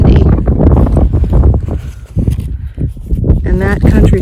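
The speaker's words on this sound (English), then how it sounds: "It's very windy" Strong wind buffets the microphone on an Appalachian Trail mountain summit, loud low roaring gusts rising and dipping throughout, with a voice faintly present.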